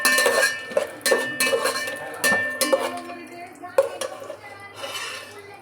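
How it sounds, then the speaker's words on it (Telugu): Whole garam masala spices fry in hot ghee in a pot as bagara rice is started, with repeated metal spoon clinks and scrapes against the vessel over a soft sizzle. "నెయ్యి వేడైన తర్వాత అందులో హోల్ గరం మసాలా వేసుకొని కొంచెంసేపు వేయించుకోవాలి"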